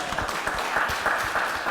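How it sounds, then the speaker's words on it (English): An audience at a World Cancer Day gathering applauds in a brief, steady wash of clapping at moderate volume. "we are giving a round of applause"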